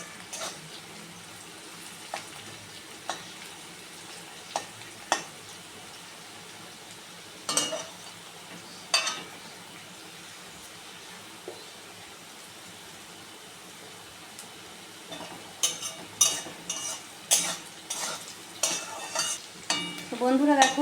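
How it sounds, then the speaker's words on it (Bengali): Mixed vegetables are stir-fried in a pan for egg chowmein. A soft, constant sizzle runs under sporadic scraping stirs and utensil knocks, which grow busier and clatter more toward the end. "এগুলো ভাজা হয়ে গেছে সবজিগুলো"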